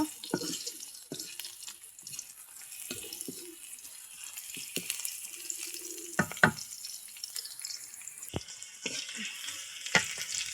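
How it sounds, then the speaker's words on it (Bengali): Chopped onions and green chillies frying in hot oil: a steady close sizzle with scattered sharp clinks and scrapes of a spatula stirring the pan, and no talking. "আমি পেঁয়াজ পেঁয়াজ আর ঝালগুলো একটু লাল লাল করে ভাজা নেব"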